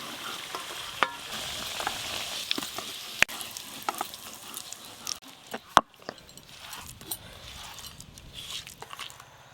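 Potatoes frying in oil until browned and red, with steady close sizzling broken by sharp clicks and scrapes of stirring in the pan, no talk over it.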